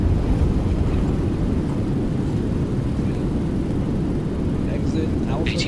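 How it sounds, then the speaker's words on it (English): Boeing 737-800 in X-Plane 12 roaring under reverse thrust during its landing rollout, a loud steady broadband rumble that holds throughout, with faint cockpit callouts now and then. "Speed brings up, reverse is normal"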